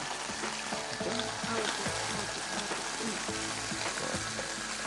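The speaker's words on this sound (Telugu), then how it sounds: "ఉల్లిపాయ పేస్ట్ కూడా వేసేసాం, అది కూడా కొంచెం వేగింది" Onion paste fries in a pan with a steady, dense sizzle that stays even throughout, close and fairly loud with no talking.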